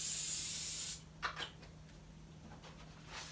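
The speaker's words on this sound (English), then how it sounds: "I'm spraying real quick, real time." A short, loud continuous spray hiss lasting about a second at the start, then stopping, followed by faint scattered handling sounds in a quiet room.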